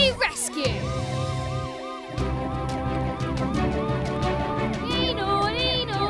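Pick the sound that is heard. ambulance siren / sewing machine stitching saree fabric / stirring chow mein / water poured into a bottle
ambulance siren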